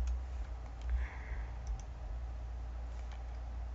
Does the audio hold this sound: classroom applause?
no